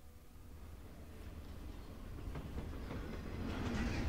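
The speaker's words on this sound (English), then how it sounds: "Oh, that train just scared me." A train passes in the video game Life is Strange, a rumbling rail roll with clickety-clack that grows steadily louder over a few seconds as it nears, with no talking.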